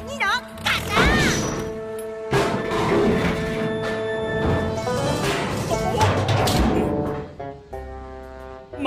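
A Plarail Thomas toy train crashes into metal drums in a toy-train story scene, a sharp clattering bang set among loud voices and music.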